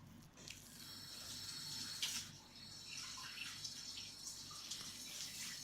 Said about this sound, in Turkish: Ben hemen elimi yıkayıp un getiriyorum.